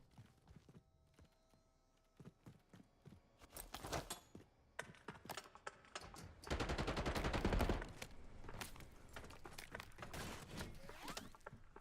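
Sniper fire and other gunshots in an online shooter game, scattered single cracks early, then a dense burst of rapid fire mid-clip followed by continued sporadic shots, no talking.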